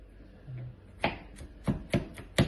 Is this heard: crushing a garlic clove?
yes